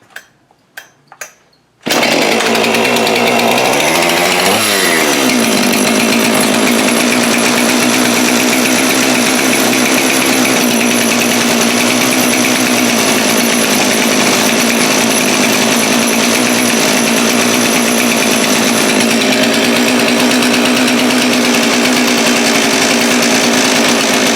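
A Jonsered 2165 chainsaw, Husqvarna-built, fires up after a few quiet clicks, revs briefly, then holds a loud, steady high-pitched idle for about twenty seconds.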